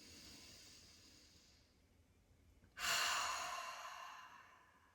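Deep yoga breathing in a hips and hamstrings class: a long soft inhale through the nose, then a sudden, loud exhale through the mouth that slowly trails away, close and alone.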